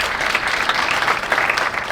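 Audience applause at a European marine academies colloquium on fishing, a steady dense wash of clapping from a crowd filling the whole stretch without a break.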